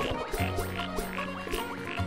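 Toad enemies croak in Wonder Boy: The Dragon's Trap, a string of short, bouncy croaks repeating every half second or so over steady game music, with no voices.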